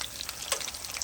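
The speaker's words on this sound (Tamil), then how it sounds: "நான் வெளியில் சட்டியை வச்சு, இன்னும் அடுப்பு இருக்கிறதால வெளியில் வச்சு நான் பொரிக்கிறேன்." Seer fish sizzling in oil in a pan on a stove outdoors, a steady crackling hiss with small pops throughout, no voices.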